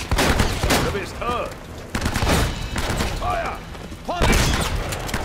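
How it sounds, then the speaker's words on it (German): Gunfire in the Uncharted: Drake's Fortune video game: loud bursts of rapid shots and booming blasts coming in waves, with someone speaking briefly between them. "Eine Vollladung Shotgun gekriegt."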